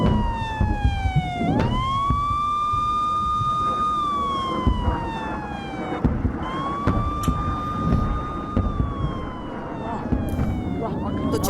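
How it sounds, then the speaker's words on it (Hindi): An air raid alert siren in northern Israel wails, rising and falling in long, slow sweeps, loud and steady across the whole stretch, with faint background noise beneath. "नॉर्थ इजराइल में गूंजे एयर रेड अलर्ट सायरन की आवाज"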